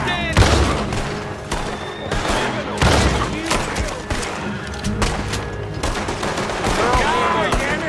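Loud gunfire crackles through a Red Dead Redemption 2 town shootout, with repeated rifle and pistol shots in dense bursts while someone shouts over the battle.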